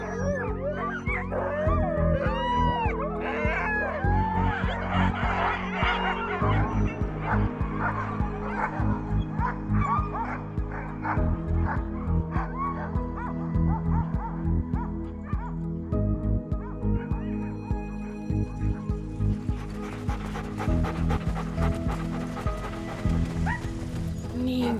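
A yard of Lapland sled huskies erupts in a chorus of howls, yips and barks, many dogs at once, loud and close, with whimpers mixed in and voices faint in the background.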